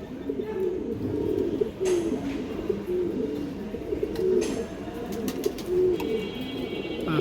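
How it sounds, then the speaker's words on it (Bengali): Old-line breed pigeons kept at a breeder's farm coo in repeated low rolling calls, close and steady, with faint chirps and rustling and no talk. "এই দেখেন পুরনো লাইনের কবুতরগুলো"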